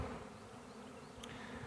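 A honey bee swarm buzzes in a soft, continuous hum, faint and brief, with one bee briefly zipping closer for a moment.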